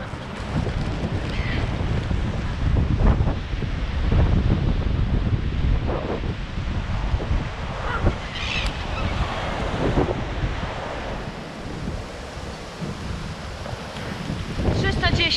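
Steady roar of Baltic Sea waves on the Polish coast mixed with gusting wind buffeting the microphone, loud and continuous throughout.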